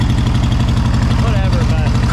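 A dirt bike engine idles high and steady, a loud, close, even pulsing drone with a faint voice beneath it.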